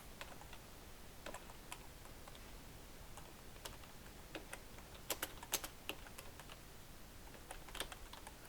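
Computer keyboard keys are typed in short irregular bursts, faint and close, with sharper clicks mixed in and no voices.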